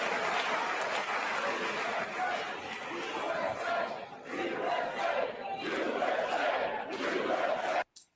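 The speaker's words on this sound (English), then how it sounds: "Them cheering like this for Donald Trump and his speech." A large crowd cheers and roars for Donald Trump's speech, a loud sustained wall of shouting and whooping that dips briefly midway, then swells again before cutting off abruptly at the end.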